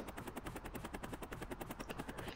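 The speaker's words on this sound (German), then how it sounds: "Da ist gerade noch ein Hubschrauber auf dem Dach." Rapid, even rotor thumping from a helicopter sitting on a rooftop in Wobbly Life, quiet and continuous for a couple of seconds with no talk over it.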